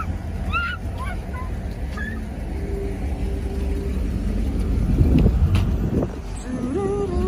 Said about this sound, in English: Look at all this traffic